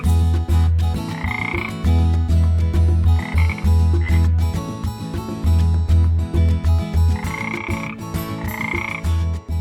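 Frogs croak steadily in a forest pond, a loud, dense chorus of low rhythmic croaks with higher calls rising over it now and then. No one speaks.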